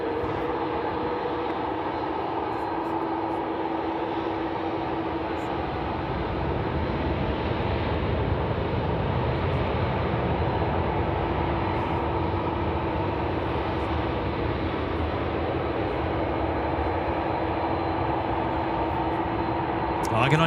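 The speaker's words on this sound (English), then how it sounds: "Emirates 4178 cleared for takeoff" An Emirates airliner roars down runway 16 right at Sydney Airport on its takeoff run, a broad steady jet engine rumble that swells slightly midway and holds loud and continuous throughout.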